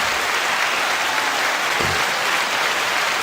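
Sustained audience applause on a hip-hop radio show after a new track premiere, a thick even roar of clapping that holds level throughout, with one brief low thump partway in.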